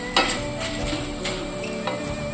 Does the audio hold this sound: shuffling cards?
no